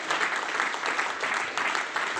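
A seated crowd at a local gathering gives loud applause for a visiting official, many hands clapping in a thick, continuous burst with a slight pulsing swell, close and sustained.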